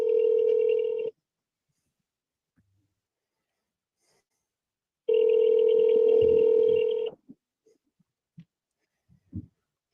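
A phone call rings out while waiting for voicemail, with two long electronic ring tones separated by a few seconds of silence, then faint scattered small noises.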